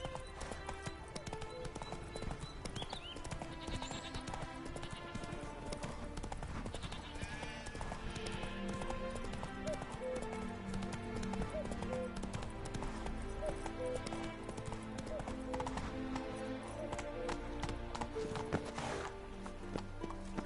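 Horse hooves pound in a steady galloping clip-clop within a PS4 game, loud and continuous against dense in-game music and ambience, with a faint voice briefly urging the horse on.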